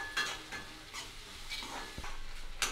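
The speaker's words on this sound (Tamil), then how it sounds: "வெங்காயம் நல்லா பொன்னிறமாக வதக்கிடலாம்." Chopped onions sauté in a pan until golden for chilli idli. A quiet sizzle runs beneath soft, occasional scrapes and clinks of the spatula against the pan, with no speech.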